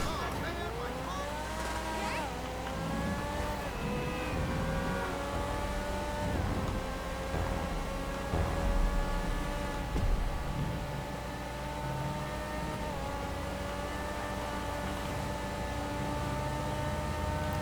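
Steady engine drone of a car driving into the city in the video game GTA V, rising and shifting in pitch as it accelerates, continuous and moderately loud with light background noise.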